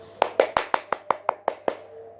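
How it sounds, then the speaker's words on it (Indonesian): Nine crisp hand claps in a quick, even rhythm, close and clear against near silence, from a chemistry teacher at the end of a lesson. "Mari beri tepuk tangan untuk kita semua."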